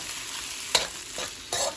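Pinakbet vegetables and shrimp stirred in a pan: a soft steady sizzle broken by a few brief scraping stir strokes, heard close, with no talking.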